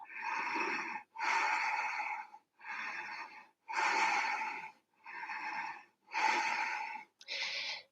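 Deep, audible breaths taken during a twisting yoga pose in a vinyasa flow, seven long alternating inhales and exhales with brief pauses between them, close and breathy.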